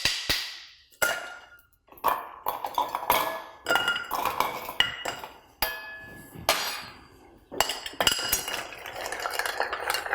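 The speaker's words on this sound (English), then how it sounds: "And we're going to stir." A bar spoon stirs a cocktail over cracked ice in a mixing glass, giving repeated clinking and rattling strokes in an uneven rhythm, close and fairly loud, with no talking.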